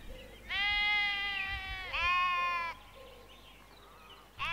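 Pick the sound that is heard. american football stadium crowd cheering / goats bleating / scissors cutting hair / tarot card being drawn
goats bleating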